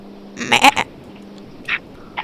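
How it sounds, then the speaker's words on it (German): Blocky sheep from the game Minecraft bleat in a quick, loud burst of stuttering baas, followed by a shorter, quieter bleat a moment later. "Ah, ein Schaf. Ein Schaf."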